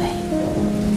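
Steady storm rain falling on a surface, a continuous dense wash with low tonal hum underneath, loud and unbroken throughout with no voices.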